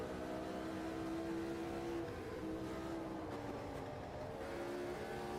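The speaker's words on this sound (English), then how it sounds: "we just passed Depailler in the Tyrrell to move up into P5" A 1975 McLaren Formula One car's engine in the racing game Automobilista 2, on the Brazil circuit, holds a steady, loud high-revving drone throughout, with slight pitch shifts as it runs close in the mix.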